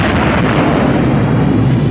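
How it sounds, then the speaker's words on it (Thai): Explosion in the video game ARK on the Valguero map, a loud, continuous booming rumble that fills the whole moment with heavy low-end blast noise. "ระเบิด"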